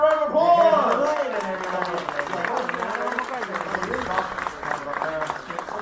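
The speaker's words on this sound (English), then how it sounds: "Let's have a round of applause." Audience applause at a live horror make-up show at Universal Studios Orlando, a sustained round of clapping from a crowd with voices talking over it throughout.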